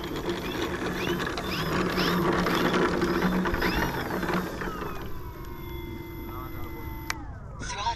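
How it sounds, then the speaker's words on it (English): Wheels of an RC airplane rattling on their axles as it rolls along the ground after a crash-filled day of flying: a continuous grinding, ratcheting clatter with bursts of talk over it, then a high steady motor whine near the end. "those tires on those axles, or the wheels on those axles, make a ton of noise"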